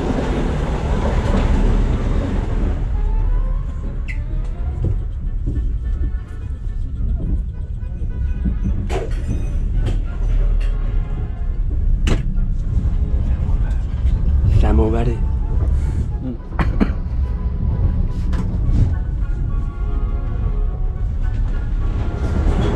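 A steady low rumble of Trans-Siberian train carriages rolling along the tracks in Russia, with intermittent rattles and clanks, heard from inside and continuous throughout.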